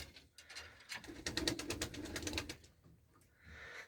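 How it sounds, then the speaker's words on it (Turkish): Game pigeons and their chicks in a loft, giving soft cooing and a run of rattling, ratchet-like clicks and flutters close by, with no talk. "Şunlar da bizim oyun güvercinlerimiz."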